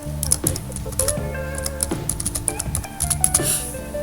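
Password typed on a computer keyboard during a WordPress install: a steady run of quick, close clicking keystrokes over a busy tonal background.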